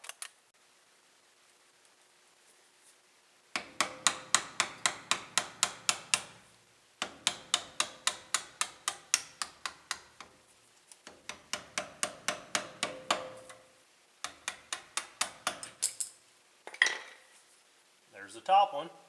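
Metallic hammer blows strike a punch to drive the caliper pins out on a 1992 Ford F150, fast rhythmic series of ringing taps in several bursts separated by brief pauses, close and clear.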